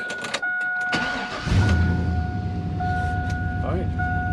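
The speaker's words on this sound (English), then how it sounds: "There we go, crank the truck." A truck engine cranks briefly and then catches, settling into a steady, fairly loud running rumble with a faint electronic tone above it, while a voice talks over the engine noise.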